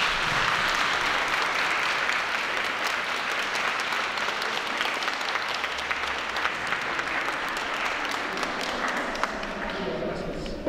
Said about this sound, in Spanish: Y le damos un aplauso de bienvenida a Santiago.